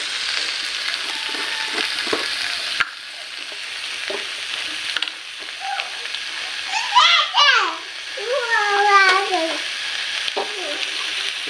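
Cumin seeds dropped into hot oil for an Assamese chicken dish, a hissing sizzle under kitchen noise, with a voice and speech rising over it midway.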